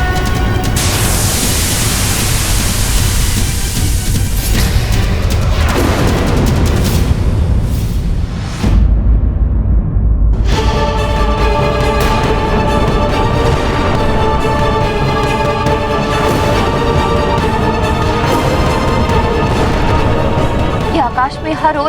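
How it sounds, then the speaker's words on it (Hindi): Loud, dense roaring bursts of explosions in a mythological TV drama, fire and blasts across the sky, with a brief lull partway through before a sustained rumbling blast resumes beneath dramatic tones. "आकाश में हर ओर अग्नि और विस्फोट"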